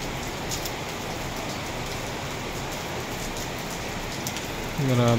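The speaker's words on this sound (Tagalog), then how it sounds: "Grabe, lakas ng ulan." Heavy rain pours steadily and densely throughout, a constant loud hiss of drops hitting surfaces, with a low tonal sound starting near the end.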